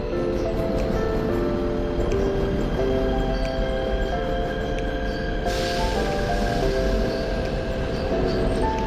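Seoul Subway Line 4 trains rumble and whine through Buramsan Station, crossing each other, with a steady roar and shifting electric motor tones.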